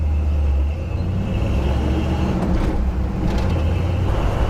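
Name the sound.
1974 Ford Bronco with 351 Ford Windsor engine running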